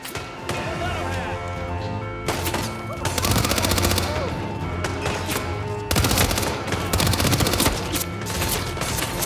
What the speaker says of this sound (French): je me fais tirer dans tous les sens